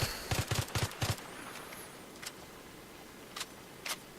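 Short bursts of M16A3 gunfire in Battlefield 3, fired from the hip in burst mode: four quick sharp triplet-like volleys close together near the start, followed by a few faint isolated pops.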